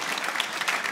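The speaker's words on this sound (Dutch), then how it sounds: "Dat is een goedkoop applaus" A seated audience at a Ramadan conference comedy show claps in a brief, steady burst of applause, a dense patter of many hands heard from within the hall.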